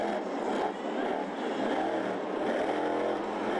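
A muddy race truck engine roars with a continuous rough, uneven drone, its note sputtering and stumbling as it misfires, loud and close with no voices.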